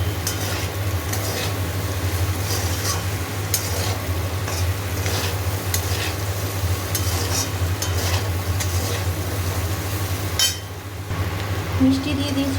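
Spiced food with turmeric and salt sizzles in a pan while being stirred, a steady frying hiss broken by repeated scraping strokes of a spoon, close and fairly loud.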